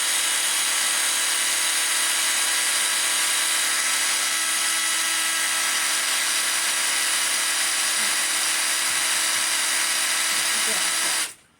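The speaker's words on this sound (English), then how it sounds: "So get it in your drill" A power drill spinning an arrow shaft while it is cut runs in one long, steady high-pitched whine close by, holding constant for several seconds before cutting off abruptly at the end.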